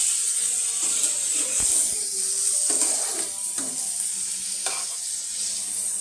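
Bitter gourd and potato frying in a pan, a continuous close sizzle broken by irregular scraping and clinking as a spatula stirs the pieces, without speech.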